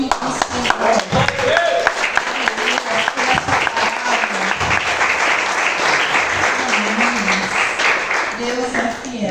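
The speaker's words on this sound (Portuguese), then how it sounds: "Pode se assentar, aplaudindo ao nome do Senhor." Church congregation applauding during a worship service, a dense, sustained wash of clapping from many hands, with a voice speaking over it.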